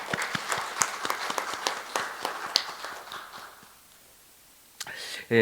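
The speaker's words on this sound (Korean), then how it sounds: "다 같이 한번 우리 총동문회와 열린 총동문회 통합을 축하하는 의미에서 박수 한번 힘차게 치겠습니다" An audience at a Korean alumni association ceremony applauds with scattered claps that taper off into quiet, followed by a brief loud noise at the end.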